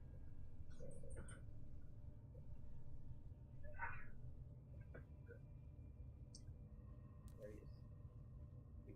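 A young kitten gives a few short, faint meows close by in a quiet room, with a steady low hum underneath and brief pauses between calls.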